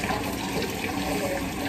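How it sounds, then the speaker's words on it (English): Strawberries are rinsed under a running kitchen tap, giving a steady, close rush of water that stays unbroken and fairly even in level throughout. "let me wash these strawberries"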